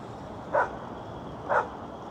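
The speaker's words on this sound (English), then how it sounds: "he's barking at me" Two faint, distant dog barks, evenly spaced about a second apart, over a constant outdoor hiss.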